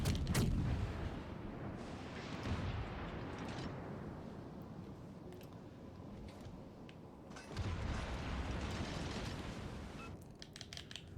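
Warship main-battery artillery fire in the World of Warships Legends naval game, with repeated heavy booming salvos and rumbling over a dense battle din, loud bursts near the start and again around the middle.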